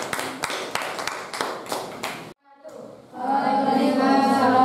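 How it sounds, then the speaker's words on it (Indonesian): A group claps for the first team in a school classroom session, a burst of several sharp claps followed by a short pause, then a louder sustained round of applause with some voices mixed in. "Oke, tepuk tangan untuk kelompok 1."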